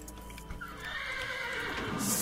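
A Minecraft horse gives a drawn-out whinny, rising and wavering with a bright breathy tail, over a low game backdrop with a soft thud near the start.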